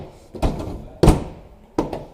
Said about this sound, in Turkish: Kapı, kapağı kapatalım kaputu.